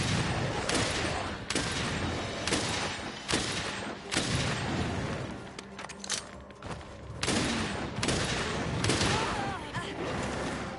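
Gunfire from the video game Monster Hunter World, with repeated loud bursts of shots and booming impacts spaced through the clip, some rapid volleys, against a dense game soundscape.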